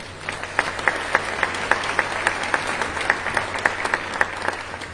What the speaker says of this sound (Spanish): Les pido también un aplauso